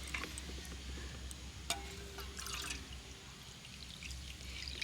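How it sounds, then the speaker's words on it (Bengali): Water is poured into semolina and yogurt idli batter, a faint, steady trickle with a few light drips, close and without voices. "তো এবার জল দিয়ে মেশাতে হবে"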